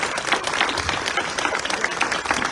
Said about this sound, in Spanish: quisiera que la recibamos con fuertes aplausos